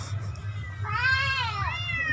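A cat meows twice, the first a long rising and falling call, the second a shorter one, fairly close over a low steady background hum.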